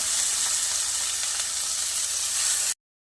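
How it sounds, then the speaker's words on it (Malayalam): Onion, a piece of ginger and two or three green chillies sauté in hot coconut oil in a pan, producing a loud, continuous hissing sizzle close by that cuts off abruptly. "നമുക്ക് പാൻ വെച്ച് വെളിച്ചെണ്ണ ഒഴിച്ച് ചൂടായി നമുക്ക് ഇച്ചിരി സവാളയും ഒരു കഷ്ണം ഇഞ്ചിയും 2-3 പച്ചമുളകും എല്ലാം കൂടെ ചേർത്ത് ഒന്ന് വഴറ്റിയെടുക്കാം"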